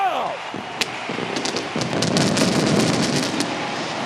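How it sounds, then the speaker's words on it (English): Fireworks burst over a Chicago ballpark after a White Sox walk-off win over the Mets, a few sharp pops rising out of a loud, steady crowd roar. "Some of the early fireworks"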